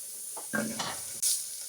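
Shallots for a liver curry hit hot oil in a pan. A brief close sizzle and stirring scrape follow, with a sharper hiss burst near the end and no talk.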